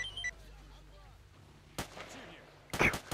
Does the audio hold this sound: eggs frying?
no